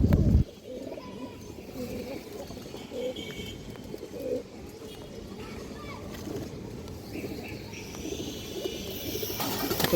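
Indian high flyer pigeons coo softly in a loft, low and steady, with faint background noise and a brief louder sound at the start.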